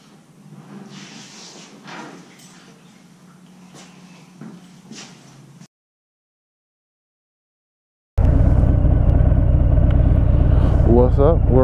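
A 2018 Harley-Davidson FXFB motorcycle runs loud and close, its dense engine rumble filling the last few seconds after talk over a quieter background and a brief silent gap.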